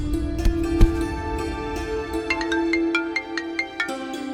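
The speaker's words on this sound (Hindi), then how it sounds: "फोन आ गया" Mobile phone ringing with an incoming call, a loud, close electronic ringtone melody of repeated bright tones over a steady hum, with no talk.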